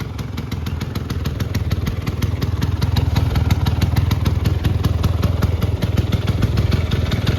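A 1994 Vespa Excel scooter with its small two-stroke engine running steadily at idle, a close, loud, even putter that holds throughout with no voices.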